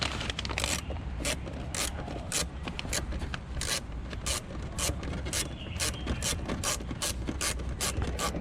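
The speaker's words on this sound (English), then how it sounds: "So you need to unscrew the T20 here." A T20 screw being unscrewed on a Tesla Model S light applique, giving a steady run of ratcheting, grinding mechanical clicks with regular sharp bursts, close up and continuous with no talk.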